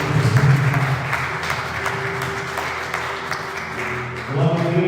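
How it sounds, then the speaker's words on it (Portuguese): A church congregation claps steadily for several seconds in a dense, continuous wash of applause that swells slightly at the end. "Jesus, uma salva de palmas."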